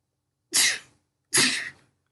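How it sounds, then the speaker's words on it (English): Two sharp, loud bursts of breath in quick succession, each a noisy sneeze-like expulsion followed by silence. "oh, excuse me, I'm about to sneeze."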